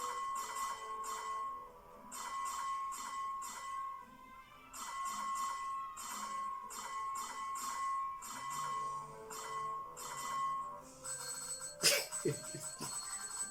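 Repeated bell chimes ring in bursts with short pauses between them, fairly loud, ending in a sharper clang near the close.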